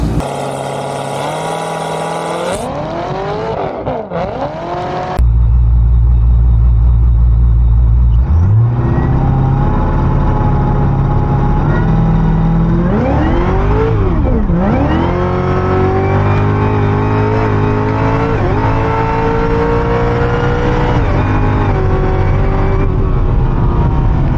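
A Corvette C7 Z06 at a drag strip revs hard for a quarter-mile launch, loud engine sweeps rising and falling, then a sustained heavy roar as the car pulls away, close and continuous throughout.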